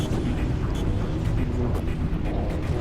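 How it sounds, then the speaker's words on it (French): In Halo 3, base explosions rumble as a dense, continuous low roar with scattered bursts and booms, loud and sustained throughout. "je suis obligé de sauter pour esquiver les explosions"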